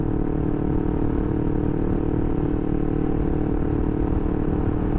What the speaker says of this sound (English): So those are the things that you gotta know with riding a motorcycle on the public roads.